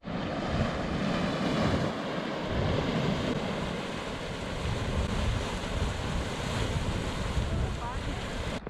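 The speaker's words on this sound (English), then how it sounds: "gurgling pits of steam, and I suppose some level lava, constantly churning and boiling" Steam vents and bubbling mud pots at Yellowstone National Park, where boiling mud and water churn in sulfurous pits, give a steady, loud, broadband hiss and rumble with no pauses and no clear speech.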